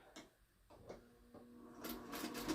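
A sewing machine stitches raw-edge appliqué, its needle first tapping in a few sparse, faint strokes and then running into a quicker, steadier whir that builds toward the end, heard alone without talk.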